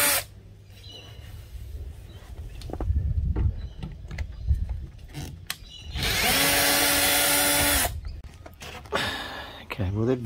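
A power tool removes chrome spats from a Jaguar XJ6 Series 2 long-wheelbase car, whirring in short bursts and then one loud sustained drilling run, near and prominent, with scattered clanks between.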